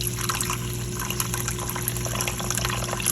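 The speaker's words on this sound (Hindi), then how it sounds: "पानी लगाऊंगी, थोड़ा सा, ज़्यादा नहीं।" Water poured into a pan of kebab curry, a steady close wash of liquid over a low continuous hum, with no speech.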